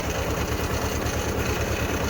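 A tractor engine idles steadily nearby on a lemon orchard farm, its low, even throb pulsing in a regular rhythm with no voices.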